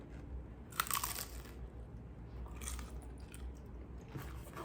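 Someone bites into a crunchy air-fried spring roll with a few crisp, close crunches spaced out between quieter chewing.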